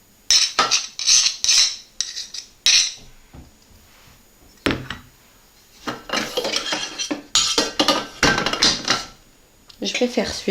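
Chopped almond pieces drop into a Thermomix bowl for Moroccan ghriba, a series of bright clinking, rattling bursts, close and moderately loud, with brief pauses between pours.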